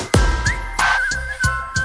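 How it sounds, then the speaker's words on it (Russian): Whistled melody in the music of the Honkai: Star Rail character trailer for Sparkle, a clear sliding whistle line over sharp percussive hits and a sustained backing tone. "Вот этот свист абсолютно подходит под настроение"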